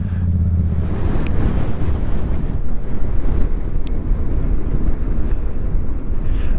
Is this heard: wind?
yes